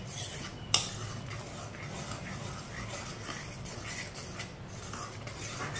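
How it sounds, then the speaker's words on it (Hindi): A spoon stirring raw mango jam as it cooks, soft scraping strokes against the pot with one sharp clink early on, faint and close over a low background hiss. "इसे भी चम्मच चलाते हुए पकाना"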